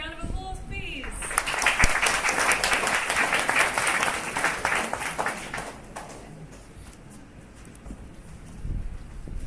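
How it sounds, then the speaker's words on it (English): An audience applauding at a tech project presentation event, with a burst of dense clapping that builds early and then thins out over several seconds, and a few voices heard near the start and end. "Okay, round of applause, please."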